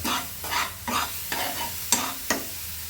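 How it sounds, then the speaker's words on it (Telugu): A spoon stirs carrot halwa with sugar and cardamom in a sizzling pan, five or six rhythmic scraping strokes with a soft frying hiss, close and clear, no voices. "యాలకులు వేసేసి ఈ చక్కెర అనేది కరిగిపోయి కొంచెం దగ్గరగా అయిపోయేంత వరకు పెట్టుకుందాం."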